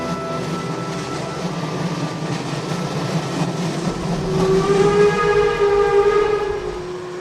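A train rolls steadily along the rails, a close continuous rumble that swells partway through as a long tonal horn or whistle sounds over it and holds for several seconds.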